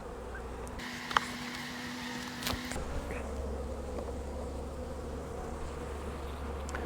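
Honeybees buzzing steadily in an open, queenless hive well stocked with nectar and pollen, a dense continuous hum close by with a brief higher tone partway through and no talk.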